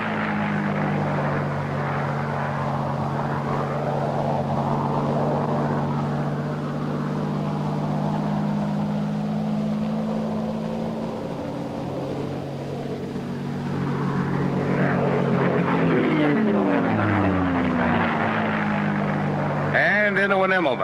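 Propeller-driven fighter plane engine in a WWII-era film droning steadily through an aerobatic loop, a sustained loud hum that swells and shifts pitch near the end, with a voice over radio talking above it.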